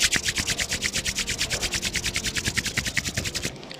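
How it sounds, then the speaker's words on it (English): Palms rubbed briskly together during a seated desk yoga routine, a steady run of about two dozen rapid rasping strokes, close and loud, stopping abruptly near the end. "and then rub your hand"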